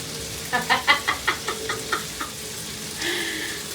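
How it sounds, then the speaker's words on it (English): Lamb keema in a pan gets a gentle saute: a quick run of rhythmic scraping stirs over a soft sizzle, then a longer hiss of frying. "Give it a gentle saute."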